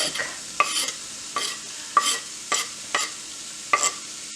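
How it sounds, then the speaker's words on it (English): Onion and garlic sauté in heated olive oil: a soft background sizzle is broken by about seven sharp, close stirring scrapes at an irregular pace, with no talking. "And you will want to saute them for around 4 minutes."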